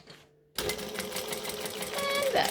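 A sewing machine back stitching a bag strap, starting after a short quiet moment and running in a fast, steady mechanical chatter for about two seconds, close and clear.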